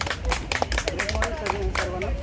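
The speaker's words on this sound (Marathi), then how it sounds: "संजय सरांनी जोरदार टाळ्या होऊ दे" Audience clapping for a man named Sanjay at a workshop held at a resort, with sharp irregular claps running alongside a voice talking over them.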